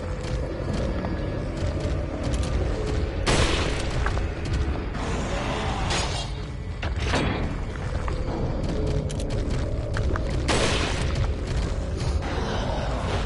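Incendiary grenade blasts in the Resident Evil 4 video game, a few loud booming bursts with crackling fire standing out over a dense, constant layer of game noise and mechanical clatter.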